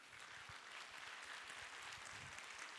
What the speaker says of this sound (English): a big round of applause for Marc Pritchard